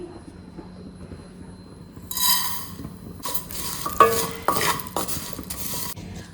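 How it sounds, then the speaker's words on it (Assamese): Vermicelli is stirred and roasted in a wok with ghee, making repeated scraping and rustling bursts against the metal pan over a soft sizzle, close and fairly loud, with no one talking. "এইটো কেৰাহীতে এই সেৱৈখিনি দি দিম"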